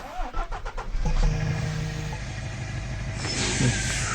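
A truck engine in the Truckers of Europe 3 driving game cranks over and catches, settling into a steady mid-pitched idle hum that holds close and continuous after a few brief stuttering bursts.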